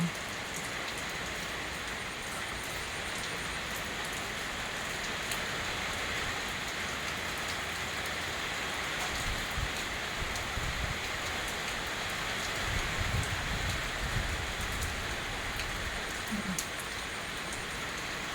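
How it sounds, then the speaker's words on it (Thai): Rain falling steadily around a house in Thailand, a constant dense hiss of drops on surfaces with occasional louder low patters, continuous and even, no talking. "ฝนตกค่ะ ที่ตั้งบ้านน้องคู่นะคะฝนตกค่ะ"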